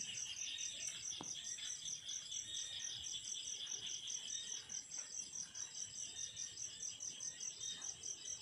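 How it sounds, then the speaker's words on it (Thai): At night near a small hut by a rice field, frogs keep up a continuous high, pulsing chorus that stays steady and fills the background, with no speech. "ได้ยินเสียงเขียดหอง เสียงกบเสียงเขียดเนาะ"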